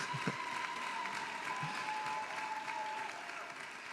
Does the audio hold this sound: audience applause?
yes